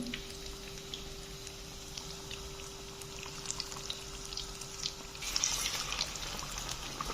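Chicken leg tikka sizzles in hot oil with a faint, continuous crackle and scattered pops, swelling louder near the end as more pieces go into the pan.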